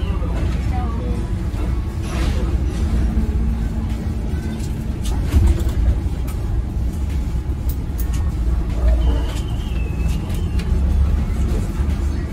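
A bus on the road setting off from a rest area, its engine a steady low rumble with road noise throughout, heard from inside the cabin while people talk over it.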